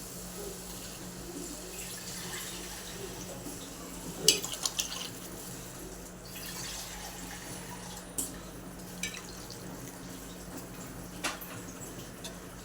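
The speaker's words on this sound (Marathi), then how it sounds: "आवश्यकतेनुसार पाणी घालूया त्याच्यामध्ये" Water poured into a pan of rice and salt over fried onions for phodnicha bhaat, a faint, steady watery rush with a few soft knocks and splashes, no talking.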